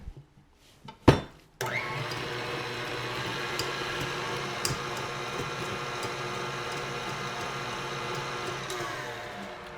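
An electric hand mixer whirs steadily through chocolate whoopie pie batter after a short start-stop burst, running loud and close with a few bumps against the bowl, and no talking.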